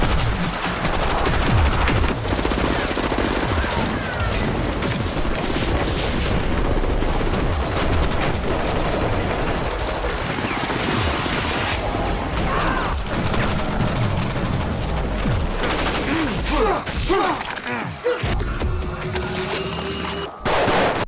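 Dense, continuous gunfire with rapid bursts and booming shots overlapping for the whole stretch, loud and close, with no pause or voices.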